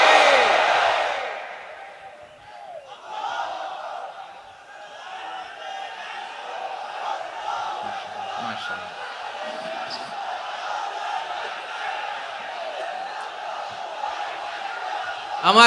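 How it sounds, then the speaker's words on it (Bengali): A large crowd at an Islamic sermon calls out the takbir together, a loud swelling roar of many voices that carries on for several seconds. "তাকবীর পড়ুন, লিল্লাহি তাকবীর"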